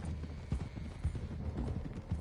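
Horses ridden through rough country in Red Dead Redemption 2 give a steady, close clip-clop of hooves in an uneven trotting rhythm, heard alone without talk.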